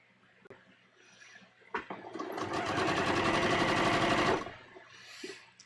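A sewing machine stitches a bias-cut V-neck dress neckline in one continuous loud burst of about two and a half seconds, with faint handling sounds before and after.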